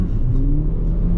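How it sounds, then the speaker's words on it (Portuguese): A BYD Song Plus hybrid SUV accelerates hard on a highway, its engine and drivetrain giving a loud, steady low roar and whir from inside the cabin that holds without a break, with no one speaking. "Mais uma aceleração, vou voltar aqui para 100 km por hora, vamos lá."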